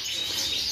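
Canary chicks chirp continuously in a close, steady high-pitched twittering, with no voices over it.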